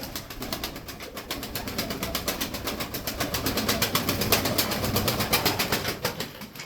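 Pigeons at a Turkish bird keeper's loft, close by, with a steady rhythmic pulsing sound repeating throughout, growing slightly louder and continuing without any voices.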